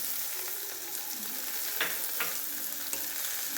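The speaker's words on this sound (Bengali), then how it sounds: "আমরা ভালো করে মিক্সচার করে নিচ্ছি" A steady hiss of vegetables cooking in a pan with raisins and milk, broken by a few soft scrapes and knocks as a spoon stirs the mixture, with no voices.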